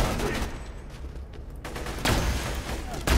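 Rapid bursts of gunfire from a Borderlands 2 weapon come in dense, loud volleys, ease off briefly in the middle and then resume with heavy impacts near the end.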